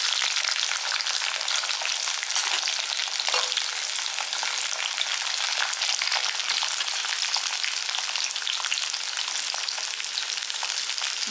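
Tamarind, garlic and onion fry in a pan for a Tamil pirandai chutney, giving a loud, dense crackle and sizzle that holds steady and close throughout with no voices.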